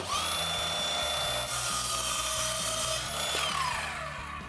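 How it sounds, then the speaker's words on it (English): Power saw cutting through the end of a plywood cleat along a guide fence, a loud steady whining cut with shifting pitch throughout the short stretch, tapering slightly at the end. "Just take the saw and make a cut right along the fence, trimming off that end of the cleat"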